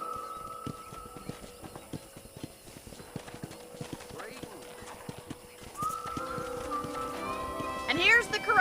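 Horse hooves clip-clop steadily at a ranch corral in the video game Red Dead Redemption, a rhythmic walking beat under quiet ambience, with a horse's whinny rising near the end.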